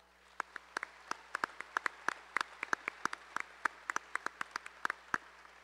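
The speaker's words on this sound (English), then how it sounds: "Let's give them all a big round of applause." Scattered, sparse hand claps from a small audience at an awards ceremony, about thirty sharp individual claps spread evenly over several seconds, fairly quiet with no voices.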